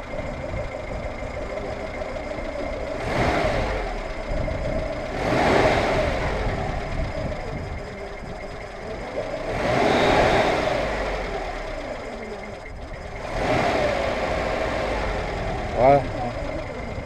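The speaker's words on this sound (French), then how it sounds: "Pour le plaisir des oreilles, quelques petits coups d'accélérateur pour les deux." Oltcit Axel car engine idling then revved in several short accelerator blips, each swelling and falling back, close and fairly loud, with a brief sharper sound near the end.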